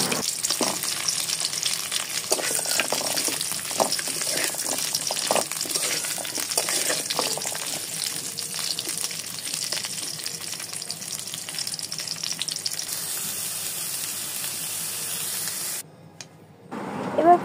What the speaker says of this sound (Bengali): এবার পটলগুলোকেও খুব ভালো মতো একসাথে ভেজে নিতে হবে।